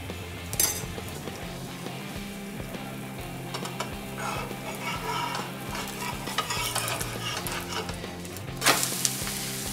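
An eggless omelette fries steadily in oil in a pan, a continuous sizzle with stirring and occasional clinks of a utensil against the pan, no voices.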